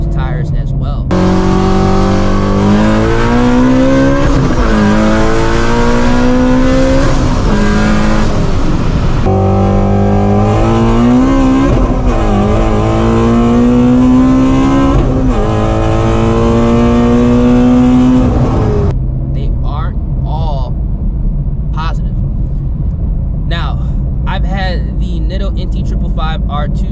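A 2016 Ford Shelby GT350 engine revs loudly and repeatedly, rising and falling in pitch over several pulls before dropping to a rough idle near the end.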